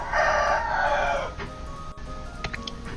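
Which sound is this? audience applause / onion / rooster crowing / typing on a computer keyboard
rooster crowing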